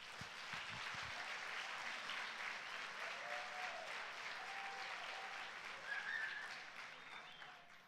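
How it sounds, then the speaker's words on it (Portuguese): A church congregation at a Sunday service breaks into sustained applause, a dense wash of clapping from a crowd that carries on steadily and fades slightly at the end, with a few faint voices underneath. "Dá um aplauso ao Senhor aí."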